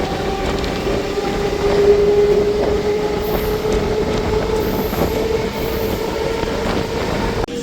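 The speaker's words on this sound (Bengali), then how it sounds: "ট্রেন আমাদের ছেড়ে দিল আগরপাড়া স্টেশন" A Sealdah–Krishnanagar suburban local train pulling out of Agarpara station gives a loud, continuous rumble of wheels on rail, with a sustained metallic squeal and faint rattling carriages throughout.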